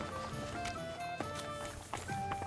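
Horse hooves clip-clop in steady rhythm within the Kingdom Come: Deliverance II video game, mid-distance and moderately loud over a dense bed of ambient game sound and tonal music.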